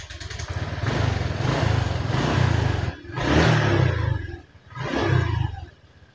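A Honda Vario 125 scooter engine fires up and revs in three loud, close bursts of throttle, dropping back briefly between each surge.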